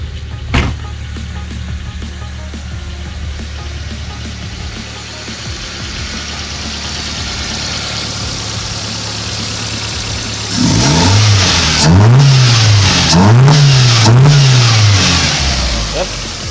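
A Toyota Paseo engine idles with a steady mid-pitched hum after being revived, then revs up and down in three rising-and-falling bursts near the end, loud and close.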